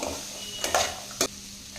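Brief scraping stirs of peas masala in a hot pan, two or three quick strokes over a faint steady sizzle, close and fairly quiet.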